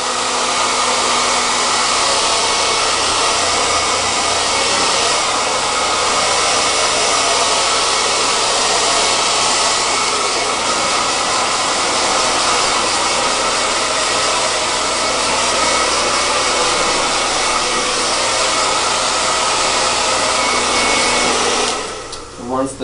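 A hair dryer blows steadily and loudly while hair is blow-dried for a smooth, full finish, a continuous close whirring rush that cuts off near the end.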